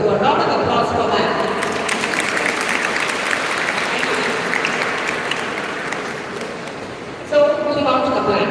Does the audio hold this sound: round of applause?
yes